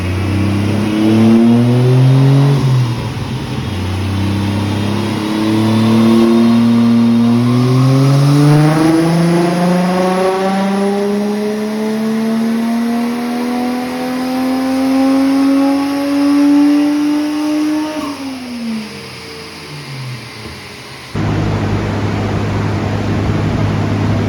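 A stock Toyota 1JZ-GTE VVTi engine on a dyno revs loudly and rises steadily in pitch through a long pull, then drops off abruptly and settles back to a rough idle.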